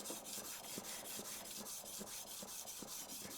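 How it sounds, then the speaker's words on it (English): Plane blade worked back and forth on a 1200 grit sharpening stone, a steady rasping scrape with small rhythmic clicks at each stroke, close and fairly faint. "I don't know if you can hear that little clicking sound."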